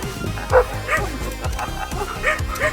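Many dogs at an animal shelter bark, yip and whimper in a busy overlapping chorus, several nearby and loud with rapid repeated barks throughout.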